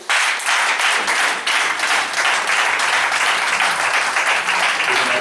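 A church congregation claps and cheers loudly in praise, a dense and continuous roar of applause that fills the space throughout.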